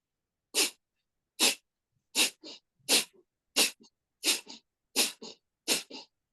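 Rapid, forceful breaths pushed out in short sharp bursts, about ten in a row at a quick regular pace, close and fairly loud.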